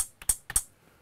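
A normal, non-reversed hi-hat in a hip-hop beat: a few crisp, bright ticks with a soft thump underneath, in a loose pattern, each closing off quickly, playing alone.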